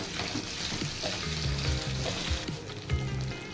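Cut potatoes frying in a pan with cumin and curry leaves, a loud steady sizzle close up, with repeated scraping and knocking of a spoon as they are stirred.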